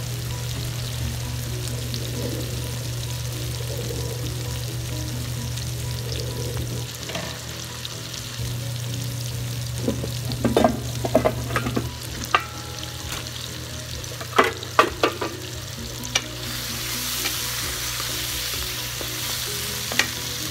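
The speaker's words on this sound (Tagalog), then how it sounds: "So guys, igigisa ko siya." Sautéing in a pan for sinigang sa miso with tuna, a constant low frying sizzle joined by scattered clinks and stirring scrapes, close and without talk, with a steady hum fading early.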